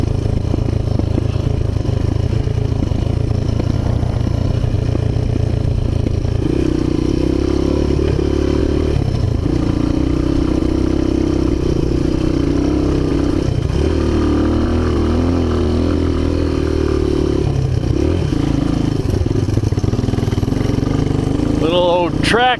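An old Honda XR 200 dirt bike engine runs continuously with a steady low chug and a rattly drone. Someone talks over the engine, and there are brief revving swells near the end.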